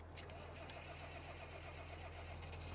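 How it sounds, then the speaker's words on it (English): Tractor engine cranking and catching in a farming video game, settling into a steady low rumble that stays loud and close throughout, with no talk over it. "I really like the sound of this tractor, the startup sound and all that."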